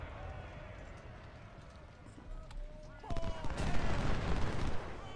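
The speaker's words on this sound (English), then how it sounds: "we gotta get a volley on these guys while they're in the water" Ragged musket volleys crackle from Civil War infantry firing on troops wading a river during a Thoroughfare Gap battle, with hoofbeats and scattered shots in a busy mix. The firing swells louder toward the end, and someone talks over it.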